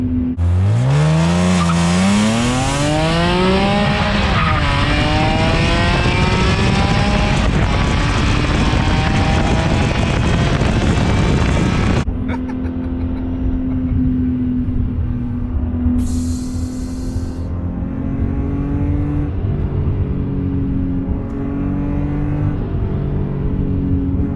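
Supercharged BMW E46 M3 with the S54 engine, loud and close, revving hard with a rising, sweeping howl and supercharger whine for about twelve seconds, then settling to a steady lower drone.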